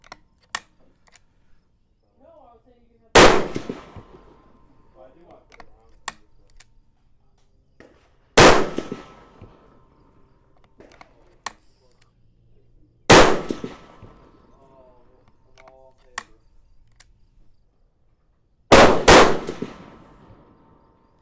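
Four loud, sharp rifle shots fired at a target with Berger VLD bullets, spaced roughly five seconds apart, each with a quick crack and short decaying echo over an otherwise quiet range.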